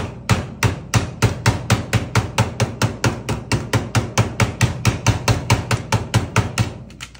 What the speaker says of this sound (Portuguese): Martela de quina, ó.